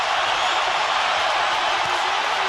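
A boxing arena crowd during the final seconds of the Canelo Alvarez versus Gennady Golovkin fight, a dense, loud, steady roar of cheering with no break.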